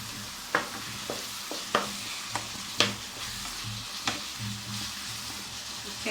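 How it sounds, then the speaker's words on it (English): Beef filling for stuffed crepes is stirred in a frying pan, with a soft background sizzle broken by about eight distinct scraping knocks of the spoon against the pan at uneven intervals. "Okay, we keep stirring."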